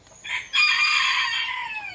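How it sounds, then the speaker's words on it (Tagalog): A single young rooster crow, short and a bit thin, loud and close, with a brief first note then a sustained call. "yung tilaok niya, bata pa yung tilaok niya"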